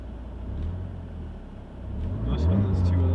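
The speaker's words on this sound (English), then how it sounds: "Oh, are they racing right there?" Nearby cars racing past with engines revving, a rumbling drone that swells louder toward the end, heard alongside a nearby car's engine as someone talks over it.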